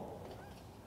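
Ducks or geese honk as they fly off outdoors on a grassy spot, a brief faint cluster of calls over background hiss.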